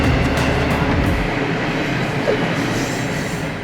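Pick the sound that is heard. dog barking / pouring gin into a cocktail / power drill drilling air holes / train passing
train passing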